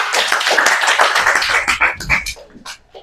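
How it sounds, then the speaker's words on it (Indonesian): A class of middle school students claps together in an art and culture lesson, a burst of scattered hand claps that thins out into a few separate claps and some knocking or shuffling before stopping. "Tepuk tangan untuk semua."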